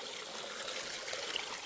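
Water trickles steadily at a wet, marshy spot beside a filled tank in the hills, a soft continuous close-up flow with no voices.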